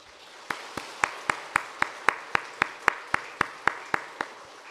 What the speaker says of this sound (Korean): 여러분 큰 박수 부탁합니다